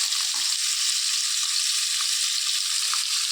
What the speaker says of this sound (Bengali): মাছের টুকরোগুলো একে একে দিয়ে ভেজে নেব